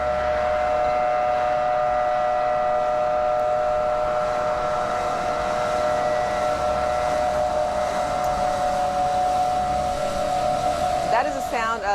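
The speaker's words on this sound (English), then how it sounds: "Of the sirens that you would hear throughout Kuwait City." Air raid warning sirens over Kuwait City wail as a steady, sustained tone heard from a distance, holding a constant pitch beneath a faint background hum, with a brief wavering sound at the very end.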